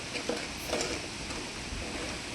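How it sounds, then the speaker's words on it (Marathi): Mutton frying with red chili powder in a pan, a soft steady sizzle with faint stirring scrapes, quiet and continuous without speech. "चांगलं परतून घेऊया."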